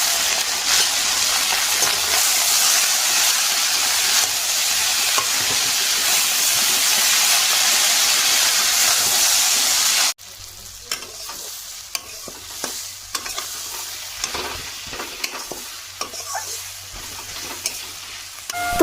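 Chopped leafy greens (shak) hit hot oil in a home kitchen pan in the Sundarbans, giving a loud, dense sizzle for about ten seconds. It then drops to quieter frying with scattered clinks and scrapes of stirring.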